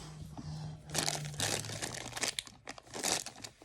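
Close, crisp crinkling of a thin semi-opaque plastic sachet being handled, in a few short bursts of rustling with quiet pauses between.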